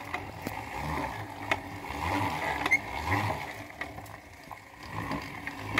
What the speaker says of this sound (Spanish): Tiene uno que estar empujando un poquito para que la agarre el molino